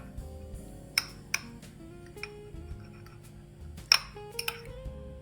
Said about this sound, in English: we will stir it in with a fork so it mixes real good